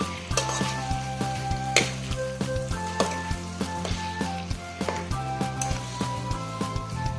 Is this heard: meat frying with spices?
yes